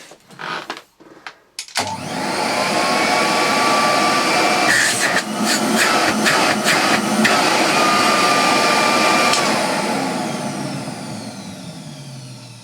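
A refurbished vintage Electrolux XII (Model 12) vacuum cleaner, run on 240 volts through a transformer in Buckinghamshire, starts after a few clicks and settles into a loud, steady motor whir that continues alone to the end.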